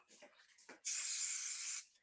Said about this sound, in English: I need some spray alcohol